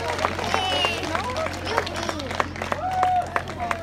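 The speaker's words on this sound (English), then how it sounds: "Another round of applause for them, please" An audience at a veterans' honoring event in Mendota gives performers another round of applause, with sharp scattered claps mixed into crowd chatter and a few cheers.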